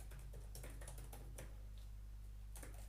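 Keys on a computer keyboard tapped in short irregular bursts, light clicks over a steady low hum, no voices.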